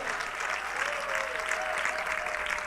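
Sustained applause from a live audience at a business success presentation in Miami Beach, steady dense clapping throughout with a faint tonal whistle over it.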